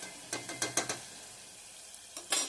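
Something frying in a pan gives a faint background sizzle, with a quick run of about four sharp scraping stirs near the start and two more near the end.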